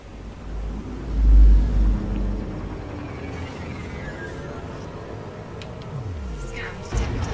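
Spaceship engines in Elite: Dangerous spool up with a deep, swelling rumble that peaks early, then settles into a steady mid-range drone with rising whines, alone without talk.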